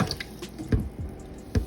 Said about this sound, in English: Now I'm just catching the water that I'm going to use to actually cook my rice.